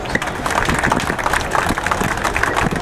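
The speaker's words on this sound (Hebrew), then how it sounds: "באמת מגיע לו כפיים" Audience at a Royal Leyland Tiger car club launch applauding Benny, dense steady clapping from a nearby crowd throughout.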